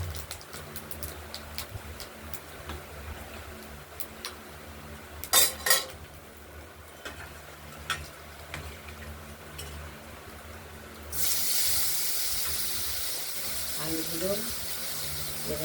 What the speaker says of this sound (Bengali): আলুগুলোকে এবার আমরা এই ফোড়নের সঙ্গে একটু ভাজা ভাজা করে নেব